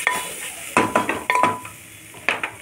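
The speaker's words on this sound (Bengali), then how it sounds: "এবার নাড়িয়ে" A pot of raw mango dal with leftover mango seeds being stirred: several scraping, clinking knocks of a spoon against the pot in irregular bursts, close and fairly loud, with a faint sizzle underneath and no talking.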